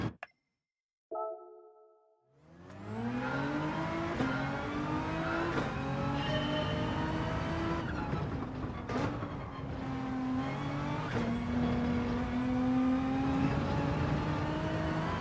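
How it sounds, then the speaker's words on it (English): A Group 3 Honda NSX race car in Gran Turismo 7 starts with a short chime, then its mid-engine revs up and holds a loud, steady high-pitched drone with gear changes, close and alone without speech. "Oh, the Group 3 NSX."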